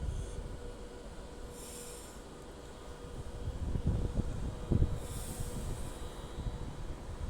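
Class 390 Pendolino electric train passing at a station, rumbling wheels and rail clatter growing louder midway with a few sharp thumps and light hiss, fairly distant and soft.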